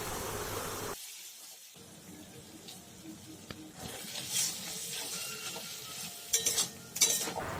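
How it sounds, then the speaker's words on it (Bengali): A turmeric, cumin and red chili powder spice mix for a banana flower and prawn curry, stirred and fried in a pan, with quiet scraping strokes over a low sizzle and a few sharper spoon clicks. "পুরো মশলাগুলোকে খুব ভালোভাবে কষিয়ে নিয়ে"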